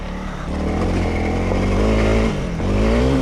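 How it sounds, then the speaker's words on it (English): A Yamaha YZ450 or Honda CRF dirt bike engine held at full throttle off-road, a loud continuous roar with rising and falling pitch as the rider works over rough terrain. "I can go full throttle, and as long as I'm not right up near the power band, really nothing dangerous happening with this bike"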